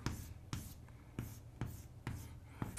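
A pen writes a truth table by hand in quick, regular strokes, about six soft scratching taps in under three seconds, quiet and close with no talk.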